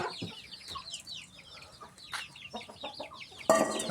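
Chicks of Burmese fighting chickens on a farm, a busy chorus of high, rapid peeping and chirping close by, with sharp calls overlapping throughout and a louder burst near the end.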